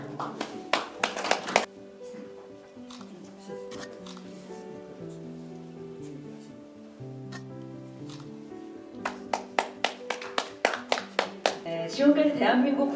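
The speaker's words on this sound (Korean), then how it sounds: "박수 부탁드리겠습니다." Audience applause at a newspaper launch ceremony in Korea: short bursts of crowd clapping open the clip, give way to a stretch of sustained music, then return as sharp repeated claps near the end.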